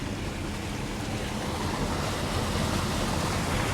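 Tropical Storm Isaac floodwater rushing and washing under a car in South Florida, a steady loud roar of churning water with wind buffeting the microphone, no voices.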